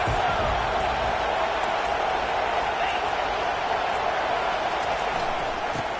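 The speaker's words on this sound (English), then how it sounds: "This crowd bringing an ear-splitting welcome to their visitors." Loud, steady roar of a college football stadium crowd welcoming the visiting team, a dense wall of cheering and noise sustained without a break throughout.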